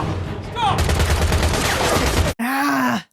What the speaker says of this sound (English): All the gunshots.